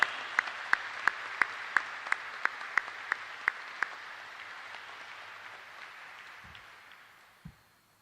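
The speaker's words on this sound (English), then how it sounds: "Please, a round of applause for Senior Chief." Audience applause at a Republic of Korea military repatriation of remains ceremony, starting with a dozen sharp evenly spaced claps and then settling into a broad wash of sustained clapping that fades away, with a couple of dull thumps near the end.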